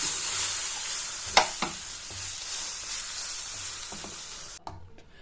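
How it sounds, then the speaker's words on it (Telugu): A spoon stirs amla pickle in a hot pan after lemon juice goes in, giving soft scraping and light sizzling with a few sharp clinks against the pan, close and alone, then a sudden drop as the stove is switched off. "తర్వాత కొద్దిగా నిమ్మరసం వేసి కలిపేసి స్టవ్ ఆఫ్ చేసుకోవాలి"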